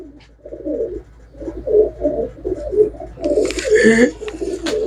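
Pigeons coo in repeated rolling bursts at a seller's stall, close and fairly loud, with a brief brighter rustle near the end and no voices.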